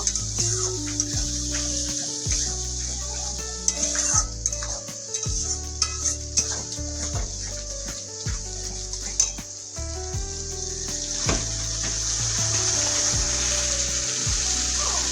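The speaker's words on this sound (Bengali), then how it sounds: "এটাকে কিন্তু এখন আমি আরো 5 মিনিট কষিয়ে নিব।" Onion, ginger and garlic paste for chickpea ghugni sautés in a pan with a constant hiss of frying, broken by occasional clinks and scrapes of a stirring spoon, close and fairly loud, with a low steady hum beneath and no talking.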